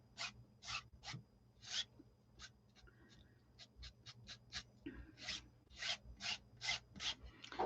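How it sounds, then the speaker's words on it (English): Craft paper scraps rubbed lightly in short, scratchy strokes, a quick irregular series of close, dry brushes with brief pauses between them. "I just want to rub this lightly."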